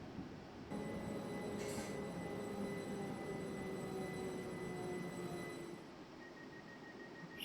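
A Class 378 electric train on the North London Line in the Train Simulator video game, giving a steady hum and rumble with a few sustained tones, a brief higher burst early on, and the sound easing toward the end.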